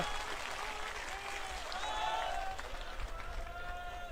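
Audience clapping at a gathering in support of farmers, a fairly faint, steady patter of many hands with some crowd murmur underneath and a few voices rising over it.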